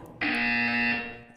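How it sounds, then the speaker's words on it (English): A loud, steady electronic buzzer tone from the test chambers of the video game Portal 2 sounds once for about a second, then fades out. "You will hear a buzzer."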